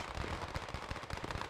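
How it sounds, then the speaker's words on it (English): Video game gunfire at the end of a competitive team match, with many players firing weapons into the air in celebration: dense, rapid overlapping bursts of automatic shots, loud and continuous throughout. "All the gunfire, everyone just shooting in the air now in celebrations."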